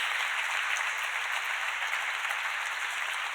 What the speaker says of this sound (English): we do have applause in the room